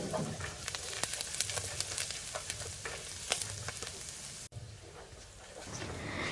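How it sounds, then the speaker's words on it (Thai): Garlic frying in hot oil in a pan, a continuous crackling sizzle with scattered pops and stirring scrapes, fairly quiet and unbroken by any talk. "จากนั้นก็ใส่กระเทียมลงไปเจียวค่ะ ขั้นตอนนี้เราก็จะเจียวกระเทียม"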